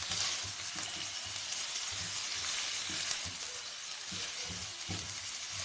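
Crushed garlic and ginger frying in a pan for Balti Gosht, a steady close sizzle with soft stirring scrapes and no talk.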